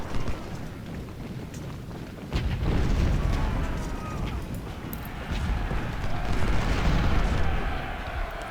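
Heavy guns and howitzers firing in the Civil War strategy game Ultimate General, a dense rumble of overlapping booms that swells after the first couple of seconds and rolls on continuously, with distant cracks scattered through it.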